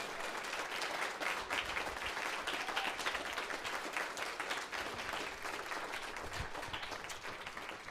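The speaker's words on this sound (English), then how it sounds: "Big round of applause for them hosting us" An audience at the Bop Stop jazz club applauds after a school jazz ensemble performance, sustained dense clapping at moderate, fairly distant level, tapering slightly toward the end.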